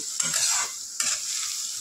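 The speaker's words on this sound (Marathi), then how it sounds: "तेलामध्ये छानपैकी भाजून घेऊया. चांगलं तेल सुटेपर्यंत आपल्याला भाजायचं." Onion and capsicum roasting in oil for pav bhaji: a close, steady sizzle with two sharp scraping stirs of a spoon or masher against the pan, and no voices.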